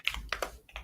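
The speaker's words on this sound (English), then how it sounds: "Who's typing? Is that clack, Glenn?" Keys clack on a computer keyboard in a handful of quick, separate taps, fairly faint and close, with short pauses between strokes and no talk.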